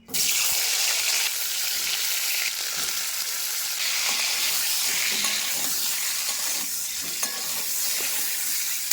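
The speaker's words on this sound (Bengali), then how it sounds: "কড়াইতে তেল রয়েছে ওই তেলের মধ্যে ফুলকপি আর আলু ভেজে নিচ্ছি" Cauliflower and potato pieces fry in hot oil in a wok, giving a loud, continuous hissing sizzle that runs unbroken from start to finish with no voices.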